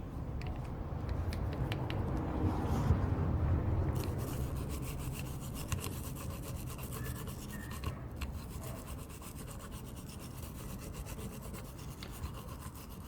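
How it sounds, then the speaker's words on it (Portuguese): A brush scrubs the throttle body of a Gol G3 with an AP engine, held open by hand, giving a steady close rasping rub that runs throughout without any talk. "eu vou abrir a borboleta e ficar segurando com a mão e escovar aqui"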